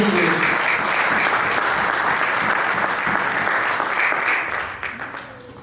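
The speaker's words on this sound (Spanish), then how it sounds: "Démosle un aplauso al que vive y reina por los siglos" An evangelical church congregation breaks into loud, dense applause that keeps up steadily, then begins to thin and fade near the end, with faint voices underneath.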